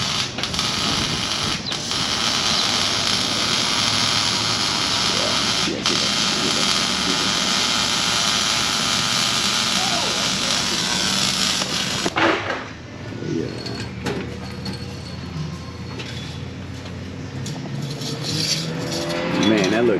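A G-body car with a new 3-inch X-pipe exhaust runs nearby, a steady loud engine drone that cuts and drops off partway through, then continues more quietly under people talking.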